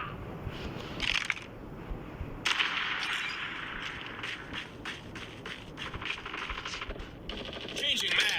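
Rapid machine gun bursts in the Call of Duty video game, several sharp rattling volleys fired in quick succession at moderate distance, fairly quiet overall with a louder burst near the end.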